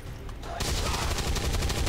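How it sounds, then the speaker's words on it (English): A burst of rapid gunfire from the turn-based strategy game XCOM 2, a quick rattling volley that starts abruptly after a short lull and keeps pounding for over a second, loud and close with no talking. "And Luke, just make the shot"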